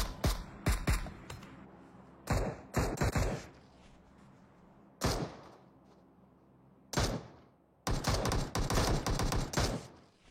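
Bursts of rapid video-game gunfire from players shooting, loud clustered volleys separated by brief gaps, with a long sustained burst near the end and no voices.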